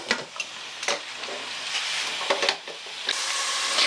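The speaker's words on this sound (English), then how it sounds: "I'll let the celery cook" Celery stirring in a pot with carrots as a stew starts, a steady sizzle and frying hiss broken by several scraping stirs of a spoon, close and clear, with no talking.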